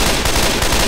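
Rapid, loud gunfire in Left 4 Dead 2 survival mode, a dense burst of overlapping shots filling under a second with no voices.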